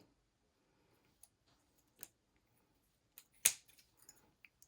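Scissors cutting during a gel printing craft session, a quiet near snip with one crisp closing click among a few faint scattered ticks.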